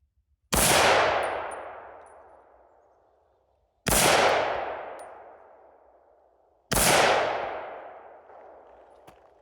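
Three loud pistol shots from a 7.62x25 Tokarev firing handloads made with Longshot powder, evenly spaced about three seconds apart, each a sharp crack followed by a long fading echo, with no voices.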